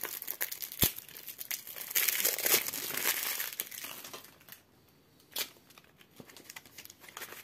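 Hands tearing a new deck of 54 playing cards in half, a close, sustained crinkling and ripping strain that builds, then eases off, with a few sharp cracks.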